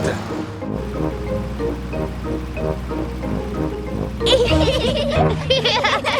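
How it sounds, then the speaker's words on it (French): Cartoon beach scene with big sea waves, a steady washing surf that swells into a brighter crash near the end while children's voices chatter over it. "Regardez cette mer et ces grandes vagues"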